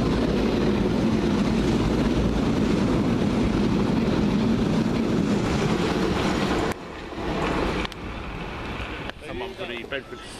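A Piccadilly line train bound for Heathrow Terminal 5 rumbles past steadily at close range, then the noise breaks off abruptly into quieter, choppier rail sounds near the end.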